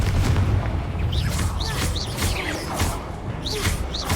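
Confringo blasting spell explosions in Hogwarts Legacy, heard as repeated booming blasts and bursts within a busy combat mix, with bird-like chirps and steady low rumble throughout.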